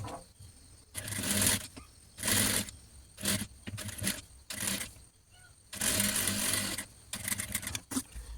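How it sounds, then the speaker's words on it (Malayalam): A sewing machine stitches the neckline of a homemade top in close, loud bursts of rapid whirring, starting and stopping repeatedly with short pauses between runs and faint background noise. "അപ്പോൾ ഇതുപോലെ വെച്ചിട്ട് നമ്മൾ സ്റ്റിച്ച് ചെയ്യുന്നുണ്ട്"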